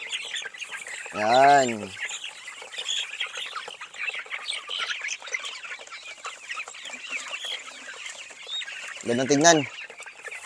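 Indio Gigante chickens cluck continuously nearby, with two loud drawn-out calls standing out, while a person speaks briefly over the flock.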